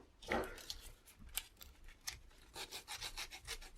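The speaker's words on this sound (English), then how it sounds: "So I'm just sanding this edge here" Close-up scratchy rubbing strokes of sandpaper on the edge of a bicycle pedal part, irregular and quick, quiet and alone.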